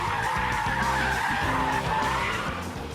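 A Mercedes Brabus brakes hard on a runway straight, its tyres skidding and squealing loudly and continuously for about three seconds as the car scrubs off speed, close and dominant.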